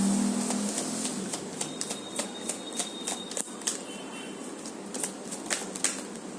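Tarot cards are shuffled close up in a quiet room, a run of crisp rapid riffles and taps in short bursts, with no voice heard.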